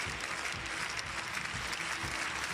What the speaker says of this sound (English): Cracking crowd.